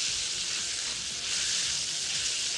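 Beef stroganoff pieces coated in flour, thyme and spices sizzle loudly in a hot pan with a spoonful of melted butter while being stirred, a steady close frying hiss throughout.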